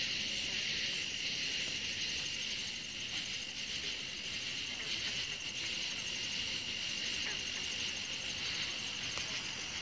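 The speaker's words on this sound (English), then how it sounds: "There's frogs out here" Frogs call at night out in the wetlands, forming a dense, continuous high-pitched chorus that stays steady and fairly faint throughout, with no other sounds breaking through.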